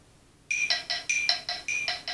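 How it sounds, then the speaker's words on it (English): An electronic metronome set to 100 bpm gives sharp, bright beeps in a steady, quick pulse, starting abruptly and sounding alone and close with no talking. "I'll put this back in here so you can hear the metronome really well."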